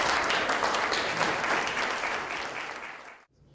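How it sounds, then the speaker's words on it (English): A crowd claps steadily for about three seconds, then the applause fades out abruptly. "Let us give them a round of applause."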